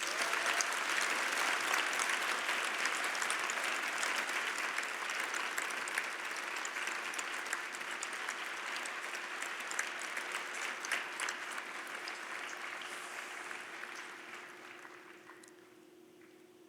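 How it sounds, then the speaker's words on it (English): Thick, sustained audience applause at a university graduation ceremony, steady and even across the hall before slowly thinning and fading out toward the end. "Let's give them a big round of applause"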